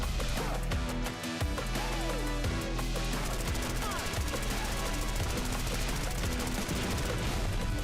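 Dense, continuous video game gunfire with rapid bursts and booms layered over music, loud and unbroken throughout.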